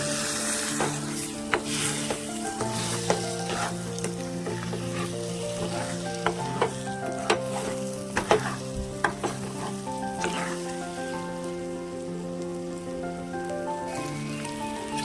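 Eggs sizzling in an egg curry pan while being turned, a continuous frying hiss under repeated scraping and tapping of a spatula against the pan, with no one speaking.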